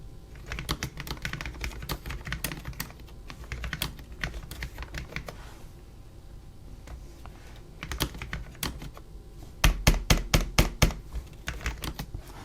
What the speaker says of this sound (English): I'm gonna lean in and give it a bit of a typing test